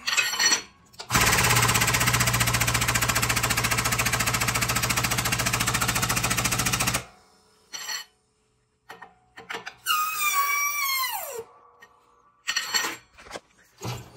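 Pneumatic jack fitted to a homemade shop press, running with a loud, steady rattling hammer for about six seconds, then stopping; afterwards come scattered clanks and a brief descending hiss of air.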